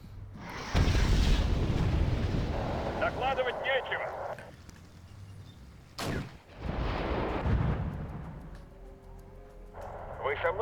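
Armoured vehicles and tanks firing in the Cold War strategy game Wargame: European Escalation, heavy booming shots and sustained rumbling gunfire bursts in several loud waves, with a voice talking over parts of it.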